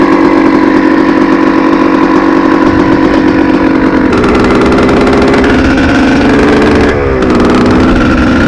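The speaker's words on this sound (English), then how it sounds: "Yep, 2002 Honda cr250r." A 2002 Honda CR250R two-stroke dirt bike engine runs loud and close, a steady buzzing idle with rough mid-range drone that shifts pitch slightly midway and dips briefly near the end.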